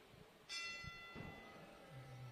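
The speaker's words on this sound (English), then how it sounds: "Bell going off once again." Ring of a bell at an amateur boxing bout at the Bahamas Games, one clear struck tone sustaining faintly over distant arena murmur.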